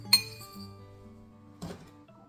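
A utensil stirring keto English muffin batter in a ceramic ramekin, two sharp ringing clinks a second or so apart, each leaving a short fading ring, close and quiet.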